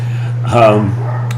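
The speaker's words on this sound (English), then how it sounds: "that's my dog, if you can hear it" A single short dog bark or yip rings out over a steady low hum, brief and moderately loud, followed by quiet.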